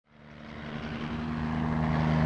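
A helicopter flies in from the coast toward Bougainville, its engine drone and rotor hum swelling steadily louder as it approaches, with no voices.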